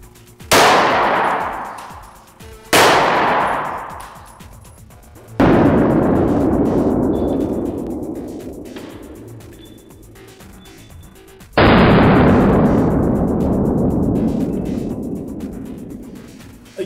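9mm rounds fired at a glass target: four loud, sharp reports close by, each followed by a long ringing clang that slowly fades, with no talking.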